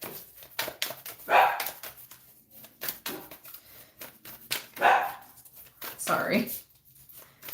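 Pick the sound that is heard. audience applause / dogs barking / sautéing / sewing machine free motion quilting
dogs barking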